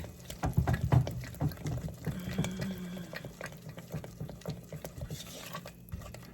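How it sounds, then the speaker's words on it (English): A whisk stirs condensed milk and white chocolate fudge in a pan, giving soft rhythmic scraping and clinking strokes at close range, fairly quiet, with no talk. "Whisk."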